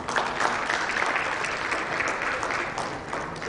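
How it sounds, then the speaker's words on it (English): A healthcare summit audience in Rajasthan breaks into dense, steady applause for a guest, many hands clapping continuously at moderate volume. "A round of applause for ma'am, please."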